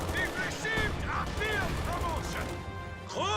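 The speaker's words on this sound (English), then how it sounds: "MG-34 suppresses rifles there." An MG-34 machine gun fires in a strategy war video game, a dense crackle of gunfire mixed with other battle effects and chirping tones, steady and fairly loud throughout.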